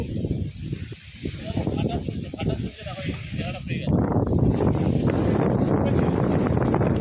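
Strong wind over the Matla River in the Sundarbans roars and buffets the microphone in a low, rushing rumble that grows louder halfway through, with muffled voices faintly underneath.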